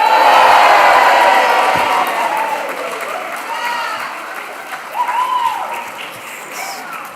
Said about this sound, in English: After 3, a huge cheer for the class of 2025.